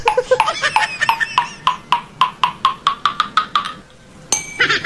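A rapid run of about a dozen sharp clinks and taps like glass striking something, followed by a brief pause and then a final cluster of bright, breaking impacts.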